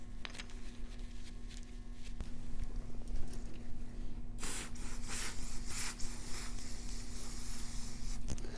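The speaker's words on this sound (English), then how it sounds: "I spray a rag and then wipe it down because I don't want to get brake clean on these new tires that I've installed." Brake cleaner hisses from a can onto a rag, followed by rubbing and wiping on the front brake rotor of a Yamaha XS1100 motorcycle, close and fairly quiet, with the spray bursts loudest in the second half.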